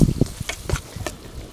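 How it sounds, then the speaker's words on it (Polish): Flour browning in fat in a pan over an outdoor fire gives a soft sizzle, broken by a few quick scraping strokes of stirring at close range. "niech się troszeczkę przypali mąka. Niech się troszeczkę na tłuszczyku przypali."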